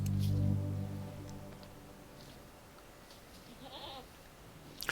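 Goats in the Rimworld video game let out a short, low bleat at the start, followed by faint rustling and a few soft game sounds with no talking.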